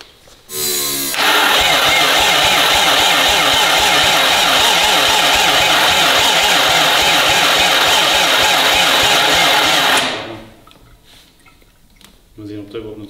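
The starter motor of an Audi RS4 2.0 saloon cranks the engine in one long, loud, rapidly pulsing whirr that lasts about nine seconds before cutting off, close up, followed by quieter handling noises.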